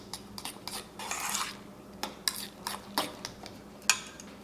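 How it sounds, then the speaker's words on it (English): Minced jalapeno is mixed into a mixture with a utensil, giving a series of close scraping and clinking strokes against a bowl, one longer swish, then several short knocks, with no speech. "And mix that in."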